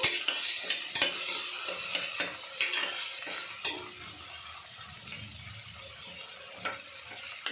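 Onions frying in a pan while being stirred, with a loud close sizzle and scraping strokes that ease into a softer, steady hiss.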